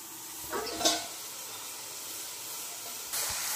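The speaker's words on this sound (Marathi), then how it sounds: "मसाला शिजत आलेला आहे चांगला एकदम।" Chickpea masala for chole cooking in a pan, giving a soft steady hiss and sizzle with a couple of brief louder stirring flares, fairly quiet throughout.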